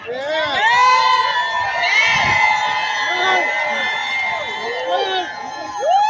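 A large rally crowd at City Hall on Broadway and Murray Street cheers and whoops continuously, with many overlapping shouts and yells rising and falling close by.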